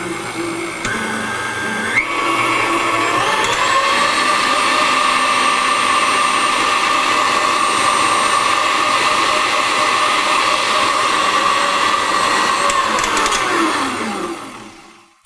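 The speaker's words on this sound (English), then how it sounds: "So this is the KitchenAid, so we're going to go ahead and fire this up and take a listen to how it sounds." A KitchenAid Artisan 5-quart stand mixer spins up and runs steadily with a loud, even motor whine that holds for about twelve seconds before winding down, heard alone with no talking.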